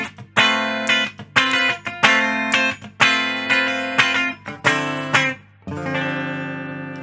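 A Grainger Apollo electric guitar played clean through the bridge humbucker: a series of ringing strummed chords, each struck and left to decay, ending on a longer sustained chord.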